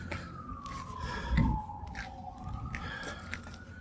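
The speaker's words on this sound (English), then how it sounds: "don't turn off the sirens now" A police siren wails faintly outside an apartment building, a slow falling tone heard from a distance under low background noise.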